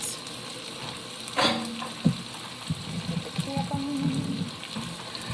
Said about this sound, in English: So we're just gonna mix this just till the butter is melted, then we'll shut it off.